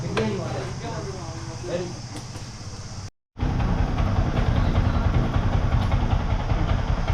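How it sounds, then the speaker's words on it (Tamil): A motorcycle that had gone 10,000 km without a service idles steadily and close by, with a brief dropout partway through, while a voice talks over the running engine during the service. "இப்போ பைக் வந்து ஒரு 5 மினிட்ஸ் ரன்னில் விட்டுட்டு"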